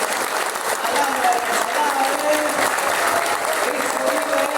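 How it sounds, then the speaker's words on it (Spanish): A church congregation at an IPC anniversary campaign service in Casma breaks into loud, sustained applause, full and steady throughout, with a few voices calling out over the clapping. "Un fuerte aplauso para Cristo Jesús."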